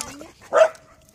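A single short dog bark close by, loud and abrupt, with faint background sounds before and after.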